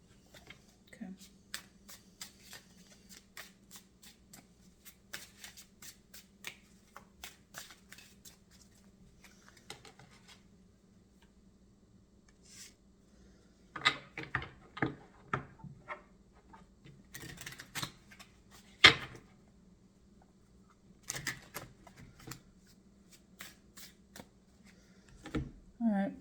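A tarot card deck is shuffled during an angel-guided energy reading, giving soft riffling taps and quicker bursts of snaps against a low steady hum, fairly quiet overall.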